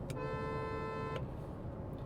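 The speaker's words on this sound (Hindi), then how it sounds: "हॉर्न भी इसका डुअल शैल आता है, तो डुअल पिच हॉर्न कह सकते हैं" The dual-pitch horn of a new 2026 Kia Seltos Turbo gives one steady honk of about a second, preceded by a brief tap, heard over constant road and engine noise from inside the car.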